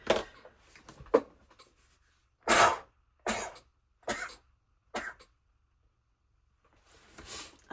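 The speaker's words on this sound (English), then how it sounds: "I can feel a sneeze coming." Several sharp, breathy bursts like sneezes, about a second apart and close up, with quieter rustling sounds before them.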